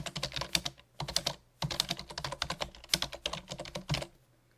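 Someone types on a computer keyboard while writing a paragraph in LibreOffice, with close, crisp rapid keystrokes in several bursts separated by short pauses.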